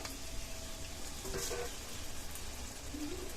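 Frying poultry skin and eggplant in a pan of released fat as water goes in, producing a steady close sizzle with a brief louder burst of spitting and bubbling.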